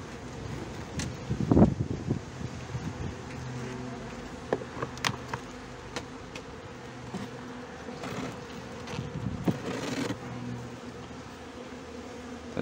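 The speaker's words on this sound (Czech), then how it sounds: "Klidný včeličky." Honeybees buzzing around an open hive frame during an inspection of a small colony split, a steady close hum with wind and rustling around it.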